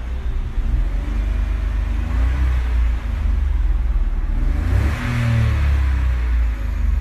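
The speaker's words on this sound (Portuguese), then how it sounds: "E ainda tem ronquinho de esportivo" A red 2014 Volkswagen up! with a three-cylinder engine revs from inside the car, a low rumbling growl that rises and falls in two swells, close and continuous with no talking.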